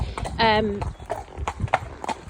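A ridden horse walking at a steady pace, hooves clip-clopping in an even rhythm close by. A short whinny sounds near the start and a person talks over the footfalls.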